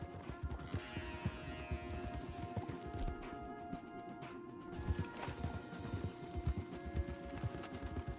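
Horses gallop in Red Dead Redemption 2, their hooves drumming in a fast, uneven clip-clop with occasional heavier thuds, moderately close under a steady background score.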